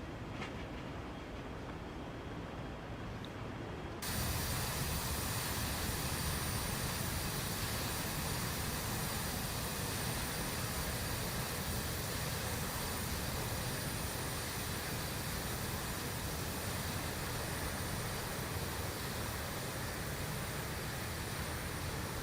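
Steady, loud jet roar from a BAe 146 taxiing in X-Plane 12, starting at about four seconds after a quieter opening and then holding a constant broadband rumble with no voices.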